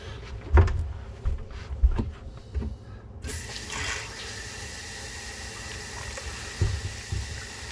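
Water runs from a repaired Kohler pull-out kitchen faucet: a few handling knocks and clunks, then a steady rushing stream starts partway through and continues close by.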